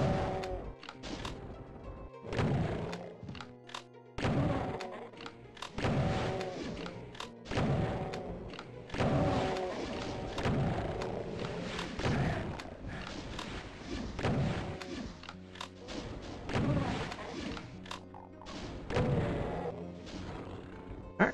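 Repeated gunshots and heavy thuds from Doom II come in irregular bursts, sharp and fairly loud against a quieter background, with no voice over them.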